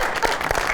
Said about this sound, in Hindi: बहुत अच्छी जी, बहुत सारी तालियां जी।